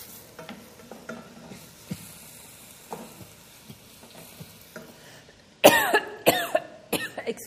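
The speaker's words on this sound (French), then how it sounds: "Excusez-moi, je tousse." Meat sizzles quietly with onion, oil and rancid butter in a pan, then three or four loud, harsh coughs burst out close by near the end.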